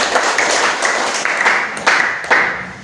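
Classroom applause for students during a Christian-values teaching practice lesson: a short burst of group clapping with sharp accented claps standing out, fairly close and fading at the end.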